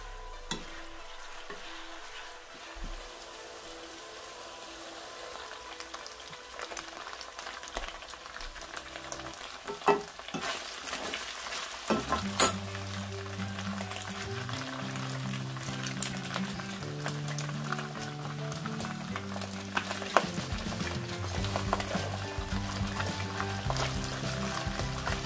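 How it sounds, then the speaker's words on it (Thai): Pork frying in not-too-hot oil in a pan, a continuous crackling sizzle that swells and grows denser partway through, with occasional sharper pops and spatters, close and fairly loud. "จะใส่หมูลงไปนะคะโดยที่ว่าน้ำมันไม่ร้อนมากนะคะ"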